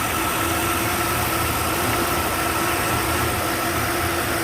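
A car engine idles steadily and fairly close, a continuous even drone with a constant low hum and no speech over it, shortly after a repair to the ignition coils.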